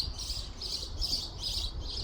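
Small birds chirp in a sunny home herb garden, a repeating high tweet sounding in regular bursts over light background noise, with no talk.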